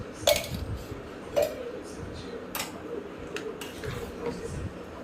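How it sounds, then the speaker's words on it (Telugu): A spoon stirs semiya upma with ghee in a pan, giving a few sharp metallic clinks and taps spaced irregularly over a soft background hum, close and moderately quiet. "కొంచెం నెయ్యి వేసుకొని బాగా కలుపుకోవాలి."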